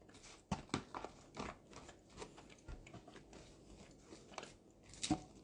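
Soft wet chewing and lip-smacking sounds, close and quiet, in irregular bursts with small crunchy clicks.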